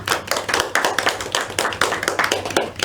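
Applause from a classroom of students during a history microteaching session: a dense run of hand claps, close and fairly loud, with an uneven, overlapping rhythm and no talk.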